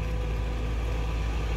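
An older SANY SY200C excavator with a YN11 engine, labouring under load in a steady, loud, continuous low drone that stays up close without any break.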